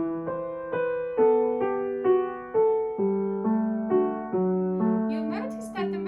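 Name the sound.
piano playing melody of grade 2 piece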